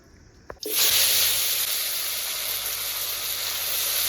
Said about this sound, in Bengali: এবার ওই তেলে পটলগুলো ভেজে নেব